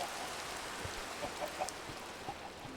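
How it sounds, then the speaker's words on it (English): Rainfall in the video game Minecraft, a faint, steady hiss of falling rain with scattered soft drop patters and no talk over it. "It is raining out,"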